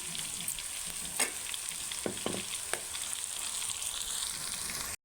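Pieces of spiny gourd fry in a pan with garlic chili powder, giving a steady, fairly quiet sizzle broken by a few sharp scrapes and taps of a stirring spoon.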